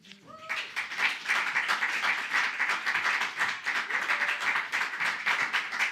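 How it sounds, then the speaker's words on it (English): An audience at a Los Angeles book launch breaks into steady applause, dense and sustained clapping filling the room from start to finish after a brief voice at the very beginning. "Oh, the claps are comforting me."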